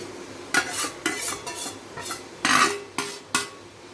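Chicken wings are stirred into a thick spicy gravy in a pan, a utensil scraping in about seven distinct, fairly loud strokes with short pauses between them and no voices.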